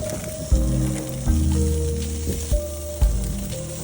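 Salmon on a grill gives off a steady sizzle with several sharp pops and crackles, fairly close, with no talking.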